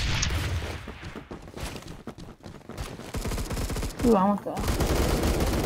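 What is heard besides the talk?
gunfire in the video game Roblox Phantom Forces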